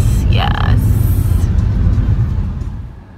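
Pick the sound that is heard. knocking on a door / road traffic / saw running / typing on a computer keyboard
road traffic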